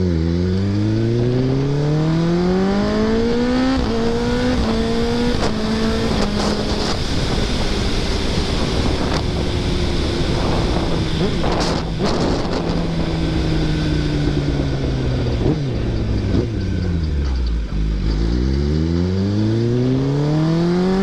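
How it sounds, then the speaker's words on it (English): A superbike ridden through canyon roads, its engine revving hard and climbing through the gears, each upshift dropping the pitch before it rises again, loud and continuous against rushing wind. "Just running through those gears."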